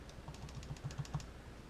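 Numbers punched into a calculator, a quick, even run of about eight soft, close key taps, fairly faint over a quiet background.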